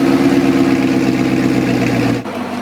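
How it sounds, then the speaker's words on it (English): A V8 car with a titanium Armytrix exhaust idles loud and close after a cold start, a rumbling steady idle that drops to a lower settle near the end. "So we're gonna do a cold start up on my V8."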